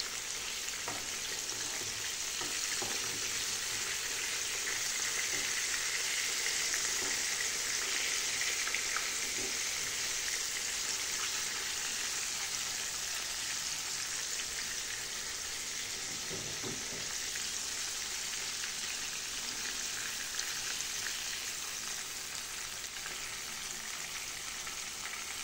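Fish fries in oil in a home kitchen, a steady, fairly quiet sizzle and crackle lasting throughout with faint occasional clinks, no voices.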